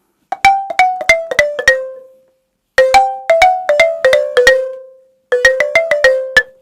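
Balafon wooden keys struck in three quick runs of descending notes, each bright bar cut short before it can ring out, with brief silences between runs.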